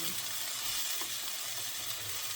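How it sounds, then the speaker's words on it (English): Chicken sizzles steadily in butter in a pan, a continuous bright crackle and hiss heard up close with no talking. "all this chicken is sizzling with the butter on the bottom here"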